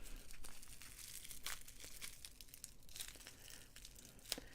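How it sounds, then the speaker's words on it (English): Crystal subscription-box packaging is handled and crinkled quietly, close by, in soft rustling bursts with a few sharper crackles. "Don't mind my crinkling."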